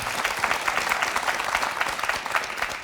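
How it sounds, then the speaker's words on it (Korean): A television studio audience on the Korean show Love in Asia applauds. The clapping is a thick, even wash of many hands, steady and unbroken throughout. "가족 행복하게 사시라고 응원의 박수 한번 보내주시죠"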